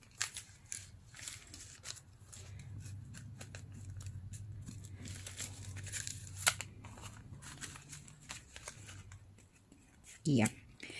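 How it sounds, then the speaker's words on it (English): Scissors cut while a small notepad is being altered by hand, giving several crisp snips against a low, steady murmur of voice and light handling noises. "now I can cut this one a little bit shorter"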